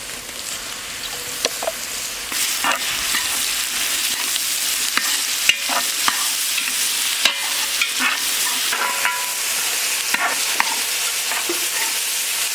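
Ginger garlic paste stirred and frying in a pan for a green mutton curry, with a steady close sizzle and repeated spoon scrapes and clinks throughout, no voices.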